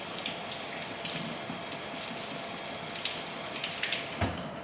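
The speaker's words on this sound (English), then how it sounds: "Wash this off my hands." Hands being rinsed under a running kitchen tap, a steady soft hiss and splash of water, close and moderately quiet, with no talking.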